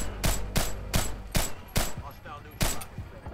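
Sniper gunfire in Splinter Cell Blacklist, about seven sharp, loud shots spaced roughly half a second apart with brief echoing tails between them.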